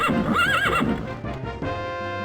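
A horse neighs in the Daggerfall video game, a clear, loud whinny with wavering tone lasting about a second, followed by a quieter trailing tail of game audio.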